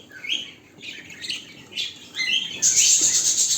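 Cockatiel chicks in a nest chirp and squawk nearby in a run of short, shrill calls that grow louder and more constant toward the end, with no voices.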